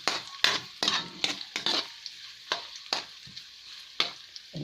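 Chicken fries in hot oil in a pan, stirred in quick repeated strokes that give bursts of sizzling and scraping with short gaps between, close and moderately loud.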